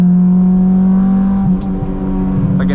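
An Integra car holds a steady engine drone through turns, with a loud, constant hum that wavers slightly as the car corners, alone with no talk.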